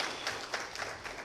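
Church congregation applauding together during a Sunday worship service, a dense, continuous wash of many hands clapping at steady loudness with no clear breaks.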